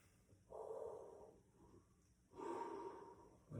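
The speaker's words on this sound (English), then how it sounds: "One more deep breath." A person takes slow deep breaths, two long airy inhales or exhales heard close and soft, separated by a brief pause.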